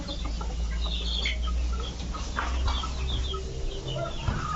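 Young chicks at a farm cluck and cheep continuously over steady background noise, with several overlapping calls close by.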